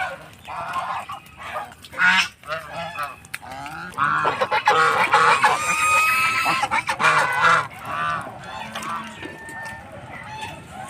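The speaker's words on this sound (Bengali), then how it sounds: "ভিউয়ার্স দেখতে পাচ্ছেন সব রাজহাঁস।" A flock of geese at a riverside goose farm honk loudly and repeatedly, close by and overlapping, with a brief bit of human talk mixed in.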